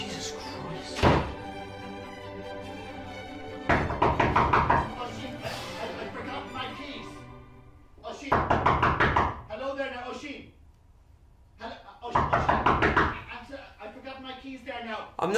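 Loud, heavy knocks thud on a door in several separate bursts of rapid pounding, with a pause between each burst. Spoken voices come in between and over the knocking.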